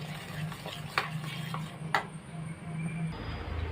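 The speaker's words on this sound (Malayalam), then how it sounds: "പഞ്ചസാര നല്ലപോലെ മിക്സ് ആവുന്ന വരെ ഇത് ഇളക്കി കൊടുക്കണം" Sugar being stirred into a pineapple mixture in a pan, soft scraping strokes with a few sharper taps of the spoon against the vessel over a low background hum, close and quiet, no talking.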